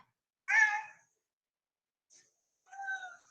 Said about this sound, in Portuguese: Claro que os gatos eles têm miados que significam alguma coisa